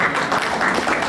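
Audience applause rings out at a panel discussion, close and fairly loud steady clapping that fills the short moment without talk.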